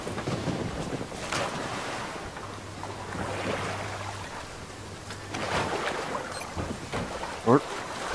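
Water and waves wash around a soldier wading into the sea in the Modern Warfare video game, a steady broad surge blended with wind-like rush and occasional splashy swells.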